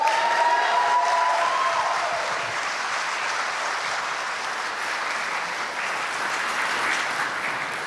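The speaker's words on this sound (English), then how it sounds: "So please give them a big round of applause." Audience applause at a horror game awards show: a sustained wash of clapping at moderate volume that holds steady to the end, with a brief tone early on.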